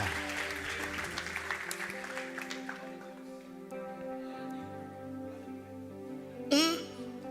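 A church congregation at a Sunday service applauds in a faint, dense burst for about three seconds, then the clapping fades into sustained, held keyboard or organ chords.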